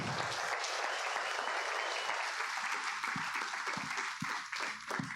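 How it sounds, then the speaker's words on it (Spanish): A church congregation applauds in a dense, loud burst that gradually thins, leaving a few distinct separate claps near the end. "¿Qué tal si le da un fuerte aplauso al Señor?"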